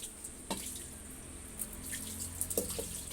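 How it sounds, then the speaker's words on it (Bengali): Water trickles and splashes steadily while deity idols are bathed at a household puja, a soft continuous flow with occasional louder drips and splashes, no talking. "শিব দুর্গাকে স্নান করাচ্ছে"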